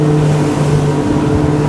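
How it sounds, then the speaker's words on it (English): Twin engines of a Jeanneau 10.5WA motorboat run at high cruising speed on open water, a steady loud droning hum with stable tones throughout, close and continuous with no talk. "Let's just listen to these motors."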